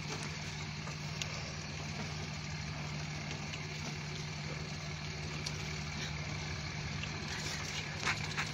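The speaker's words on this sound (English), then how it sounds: "I hear that truck running." A truck engine idles somewhere near a horse-drawn surrey on a morning road, a steady low rumbling hum that stays constant throughout, moderately quiet and with no voices.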